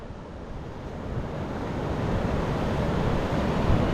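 Rough surf on a beach near an estuary, a broad roaring wash of breaking waves that builds steadily louder, mixed with wind buffeting the microphone and no voices.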